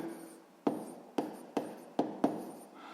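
Pen strokes on paper while writing the unknown X in a sixth-grade maths exercise, five sharp taps of the pen each followed by a short scratchy trail, close and fairly quiet, with no talking.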